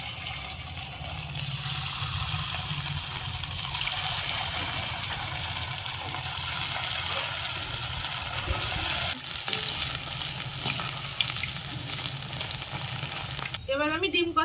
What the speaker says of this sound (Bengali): তেল গরম হয়ে গেছে, এবার আমি এগুলো ভেজে নেব